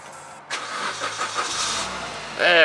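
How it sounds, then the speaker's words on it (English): A 2010 Suzuki Swift Sport sporty four-cylinder with about 239,000 km cranks and catches, then settles into a steady idle close by, with a brief bright mechanical whine near the end. "Start her up and show you the engines."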